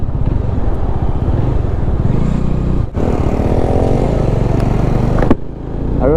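A Bajaj Dominar 500 motorcycle is ridden near the Khamtighat bridge. Its engine hums steadily and loudly up close, with a brief dip midway and clattering, wind-buffeted texture throughout.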